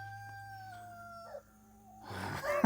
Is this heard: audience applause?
no